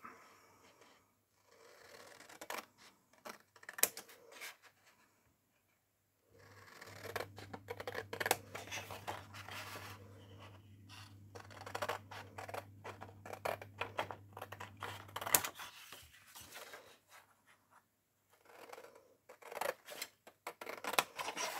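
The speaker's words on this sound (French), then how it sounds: "Alors, je vais couper." Scissors snipping through craft material for an Easter hat, a run of close, sharp, irregular cuts with short pauses, a steady low hum underneath during the middle stretch.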